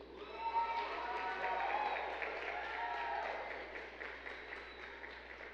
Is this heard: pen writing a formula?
no